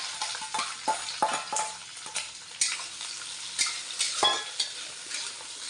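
About half a kilo of chopped small onions sizzle and fry in a pan for a beef curry, with a steady crackle broken by repeated stirring scrapes, close and alone.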